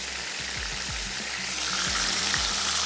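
Beef seekh kebabs frying in a pan, a steady soft sizzle with a few faint scraping touches, close and quiet.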